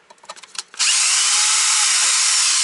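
A brush cutter engine, running after preventive maintenance, catches with a few sputters and then revs into a loud, steady high whine that holds without a break, close by.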